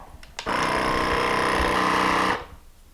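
A small electric vacuum sealer pumps air out of a wide-mouth jar through an attached hose, giving a steady mechanical buzzing whir that starts abruptly, holds for about two seconds and then cuts off cleanly.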